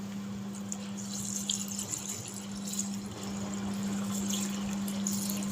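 Water pours from a glass into a beetroot juice mixture with sugar before blending, a faint steady trickle over a constant low hum, with no one talking.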